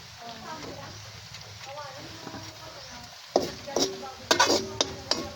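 Pig intestine fries in a hot pan, a steady sizzle running throughout while a voice talks over it, then sharp scraping clatters of a utensil stirring against the pan break in near the end.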